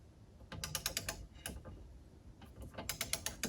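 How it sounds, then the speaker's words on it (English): Craftsman torque wrench being tightened on a Mercruiser lower unit shift shaft bushing, set to 50 pounds, giving a series of close, crisp ratcheting clicks in two bursts separated by a short pause, with no talking. "You hear that click? That indicates that this bushing is properly set to 50 pounds."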